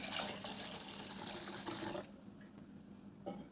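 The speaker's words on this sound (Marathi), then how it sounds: "परत थोडं पाणी घालूया" Water is poured into a raw mango panha mixture seasoned with cumin powder, black salt and cardamom, giving a soft, quiet gush for about two seconds before it stops.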